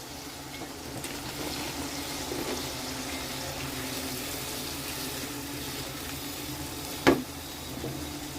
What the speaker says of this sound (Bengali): এবার সবজিটা মশলার সাথে ভালো করে কষাই নিব